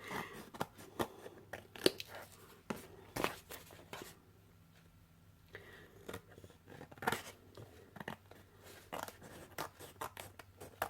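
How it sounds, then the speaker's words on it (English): Scissors trim the paper overhang from an art journal cover, a rapid series of close, crisp snips and crunches with a brief pause midway, no talking. "I'll just grab my scissors here"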